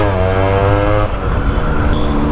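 A Yamaha RX100 motorcycle with a loud aftermarket muffler idles close by, a loud buzzing two-stroke drone with a steady pitch that dips slightly partway through.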